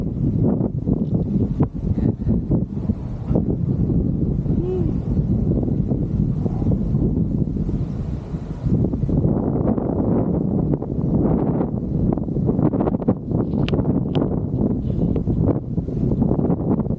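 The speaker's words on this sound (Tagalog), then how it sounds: "Lakas ang hangin." Strong wind roars and buffets continuously atop an Eiffel Tower replica at an adventure resort in Norzagaray, Bulacan, a dense low rumble that never lets up, with no voices.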